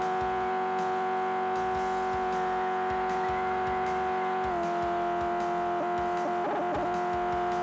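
Racing car engine in the Drift Stage video game, a steady sustained drone with a pitch shift midway and brief tire squeal near the end, continuous and fairly loud with no talking.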